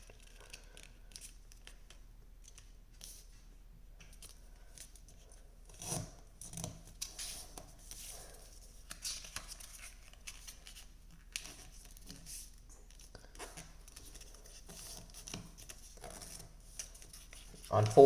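Paper being folded into an origami crane: soft crinkles, creases and rubbing strokes, quiet and close, with a few sharper paper snaps and brief talk over them.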